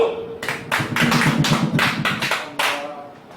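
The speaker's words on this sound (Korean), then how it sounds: "큰 박수 받는 박수!" Audience members at a lecture clap in a short burst of sharp, uneven strikes that fade after a few seconds, fairly loud and close.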